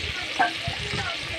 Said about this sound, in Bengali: তারপরে তেল দিয়ে আলুটাকে ভেজে নেব, নিয়ে ঝাল, হলুদ আর নুন দিয়ে ভেজে নেব